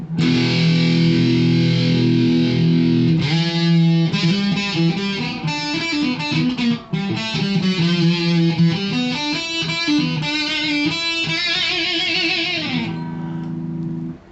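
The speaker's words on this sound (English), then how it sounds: "Now I'm going to put the distortion on and the chorus." A loud electric guitar through an amp with heavy distortion and a shimmering chorus effect plays chords and short riffs continuously, with no talking.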